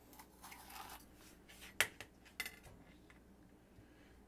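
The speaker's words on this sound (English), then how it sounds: "Chop down the middle." A knife slices a hot pepper down the middle on a cutting board in a quiet kitchen, with a few sharp clicks and taps and one crisp cut standing out.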